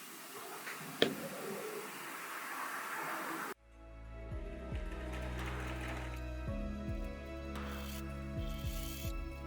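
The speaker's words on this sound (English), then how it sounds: "Now it's finally time to top stitch this section" A sewing machine top stitches a panel on a 20-litre ultralight daypack indoors, its steady motor whir running in several bursts with brief pauses and speed changes, loud and close after a quieter stretch of room noise.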